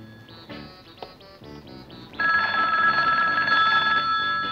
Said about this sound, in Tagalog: Sagutin niyo yung telepono!